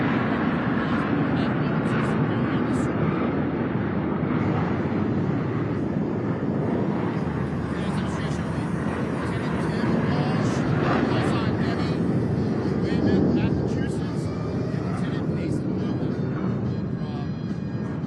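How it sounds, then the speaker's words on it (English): An F-18 fighter jet flies at a Fourth of July 250th anniversary celebration in the United States, a loud, sustained roar of jet engine noise that fills the whole stretch without letting up. "Flying the F-18 to the edge of his operating envelope."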